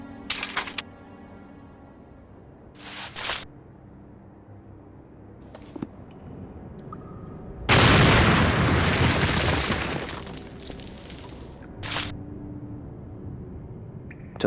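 A bomb detonates in Sherlock Holmes: The Awakened, a sudden loud roaring blast that rumbles on for a couple of seconds amid scattered quieter bangs and game ambience.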